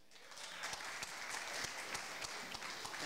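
A comedy club audience gives sustained, dense applause with scattered claps throughout as comedian Michael Morrison is welcomed on stage.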